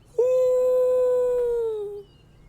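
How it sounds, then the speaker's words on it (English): A single wolf gives one long, sustained howl far off in a forest. The tone holds steady, then slides down and fades out after about two seconds. "It sounds probably just like a normal wolf somewhere in the forest"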